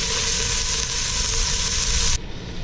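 Pork and bacon frying in a pan with rendering fat, a steady loud broadband sizzle that holds evenly for over two seconds, then drops sharply quieter near the end, no voices.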